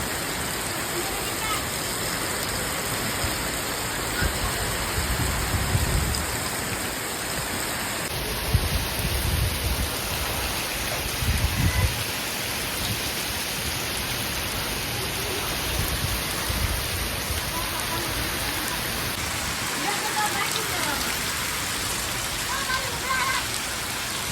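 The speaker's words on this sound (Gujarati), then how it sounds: "વરસાદ ચાલુ થઈ ગયો" Steady rain pours down with a constant hiss, with occasional heavier gusts and soft low rumbles underneath.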